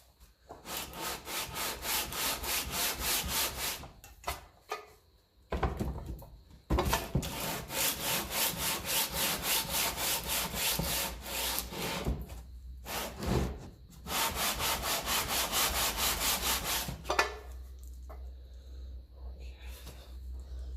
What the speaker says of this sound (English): so I might just put it on the sander block there as well